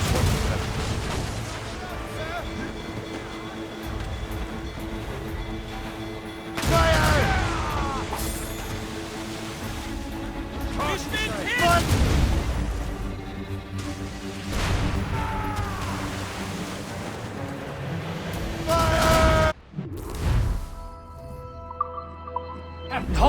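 Ship cannons booming in Assassin's Creed Rogue, heavy repeated blasts and crashing impacts over a loud, dense naval battle din at sea, with voices talking now and then amid the gunfire.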